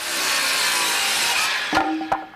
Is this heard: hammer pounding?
yes